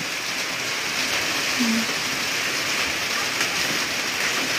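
Constant, even hiss of rain pouring down nearby, a dense wash of sound with no breaks.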